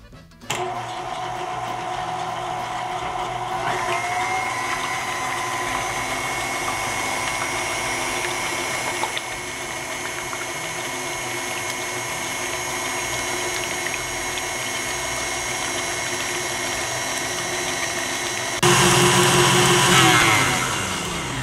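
Egg whites whip to stiff peaks under an electric mixer for filling chiles rellenos, a loud, constant motor whine running close and unbroken, growing louder near the end.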